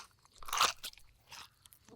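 Wet, crunchy chewing and biting used as a horror-story sound effect, suggesting a crouching shadowy creature gnawing on something. One loud crunching burst is followed by a softer second one, close and isolated against silence.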